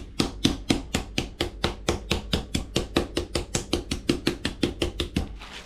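Pan-seared chicken for a Sicilian pizza chopped on a cutting board with a knife, a rapid, even series of around two dozen sharp, close thuds.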